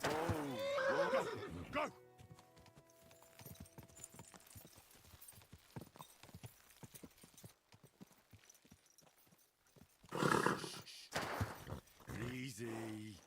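A horse in the medieval video game Kingdom Come: Deliverance neighs loudly at the start and again near the end, with a steady clip-clop of hooves between; someone shouts briefly over it.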